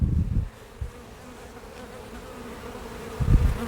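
Honey bees buzz steadily around an open hive while frames are handled, a continuous drone with louder close passes at the start and end.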